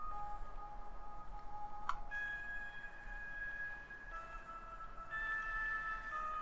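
An Omnisphere texture pluck pad through RC20 with reverb, giving quiet, airy sustained notes changing every second or so over a steady bed of vinyl-like hiss and crackle.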